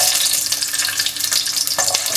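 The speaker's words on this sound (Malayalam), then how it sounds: "ഞാനിപ്പോൾ വെളിച്ചെണ്ണ തന്നെയാണ് എടുക്കുന്നത്. എന്നിട്ട് അതിലേക്ക് നമുക്ക് ആദ്യം ഇട്ട് കൊടുക്കേണ്ടത് കൊച്ചുള്ളിയാണ്." Whole small shallots frying in hot coconut oil, a loud, close, continuous crackling sizzle for the whole stretch with no talking.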